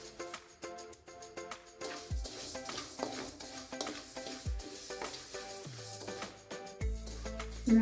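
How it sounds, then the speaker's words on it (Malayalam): Dried raw rice roasts in a pan for a traditional Kerala Ayurvedic ladoo, heard as close, repeated dry scraping and stirring strokes with light clinks of a spoon against the metal pan. "ഇനി നമുക്ക് അടുത്തതായി ഉണക്കലരി വറുത്തെടുക്കാം."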